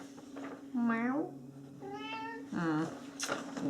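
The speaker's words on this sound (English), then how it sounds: "Yes, life is so tough when you're a kitty cat." A pet cat meows three times in quick succession, close and clear, with a steady low hum underneath.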